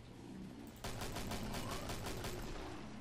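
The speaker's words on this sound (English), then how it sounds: "Whoa! Explosions!" Rapid bursts of gunfire with booming explosions erupt after a brief quiet moment, dense and continuous like a chaotic battle in the video game Killing Floor.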